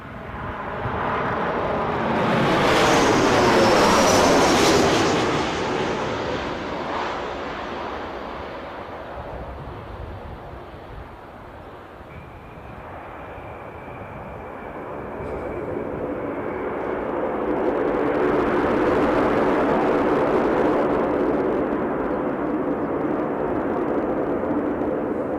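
Airliner departing Newcastle airport for Alicante, a broad roar that swells loudly, fades, then builds again over about twenty-five seconds, heavy wind buffeting the microphone outdoors.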